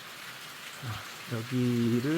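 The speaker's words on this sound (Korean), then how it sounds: "오늘 이렇게 비가 와서 아주 운치가 있네요." Winter rain falls steadily on a rural yard beside woodpiles and a wood-fired boiler, a soft constant patter under a person talking nearby.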